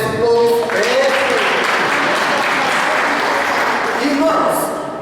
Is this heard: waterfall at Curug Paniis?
no